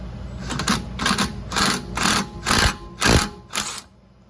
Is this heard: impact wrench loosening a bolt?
yes